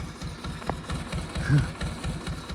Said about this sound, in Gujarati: પાવા માટે સ્પેશિયલ ટ્રેક્ટર રાખ્યું છે.